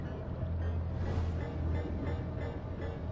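Whirring bomb-like objects underwater in Abzû, a steady low droning hum under soft watery ambience, continuous and moderately loud with slight swells.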